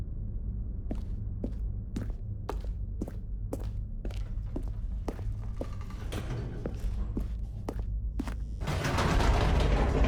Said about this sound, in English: another elevator